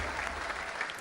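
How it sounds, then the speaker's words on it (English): Studio audience applause at a Robot Wars robot combat show, a steady dense clapping that holds evenly throughout. "Peter Gibson, give him a round of applause."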